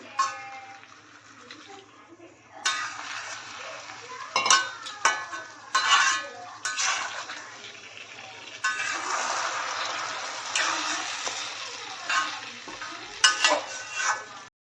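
Fish-head pilaf made with katla fish head and rice, stirred in a pan after water is added, with scraping spoon strokes in bursts over a steady sizzle, close and moderately loud.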